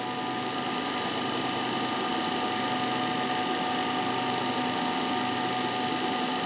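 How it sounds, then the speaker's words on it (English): A motor drives an alternator held at about 1500 rpm in a direct-load test setup. It gives a steady, loud mechanical whir with a ticking, ratchet-like texture, constant throughout with no voices. "So the motor is running at 1500 rpm."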